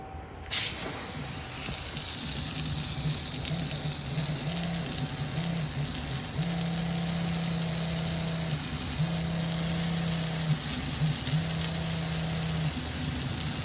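A Remco 5 GPM soft wash pump runs steadily while spraying soap, a continuous hiss of spray over a low motor hum, with the pump's drone stepping up and down in pitch at intervals.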